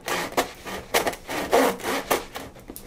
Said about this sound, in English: And then we're going to get into our first actual slice of bread.